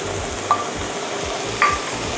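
Kai-lan greens with shiitake mushrooms stir-frying in sesame oil, a soft continuous sizzle broken by two light metallic taps of a spatula against the pan.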